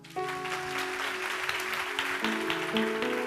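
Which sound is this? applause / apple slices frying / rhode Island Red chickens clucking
applause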